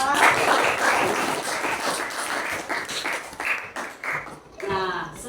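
A classroom of students claps for a classmate, a dense burst of applause that starts loud, then thins and fades over a few seconds.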